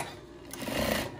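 A sewing machine runs a tight edge stitch on a fabric face mask, its whirring motor quickening and growing louder over a short burst, with no talking.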